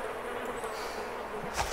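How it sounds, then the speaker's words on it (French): Flies buzz in the DayZ Epoch video game: a steady, close, continuous droning hum with a slightly louder swell near the end and no talk over it. "Ah, il y a des mouches. Vous les entendez?"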